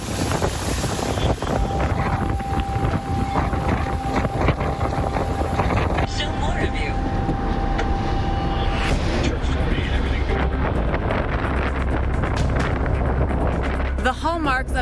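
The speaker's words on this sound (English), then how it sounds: "Angry surf and gusty winds." Gusty tropical storm winds buffet the microphone over rough, churning surf along Florida's Atlantic coast, a steady loud roar of wind and waves throughout with a voice speaking over part of it.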